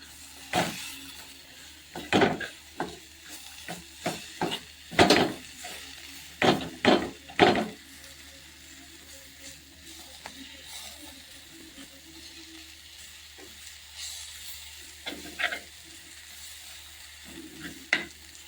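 Tomatoes are sautéed in masala for a fish curry. A pan sizzles steadily while a spoon stirs and scrapes, making a run of sharp clattering strokes that thin out partway through and then pick up again faintly.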